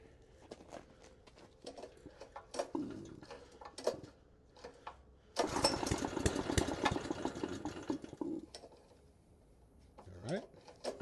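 A restored barn-find air compressor engine is cranked with the choke on and the pressure released, then catches and runs steadily as a loud mechanical clatter for about three seconds before dying down, with scattered knocks and handling noises around it.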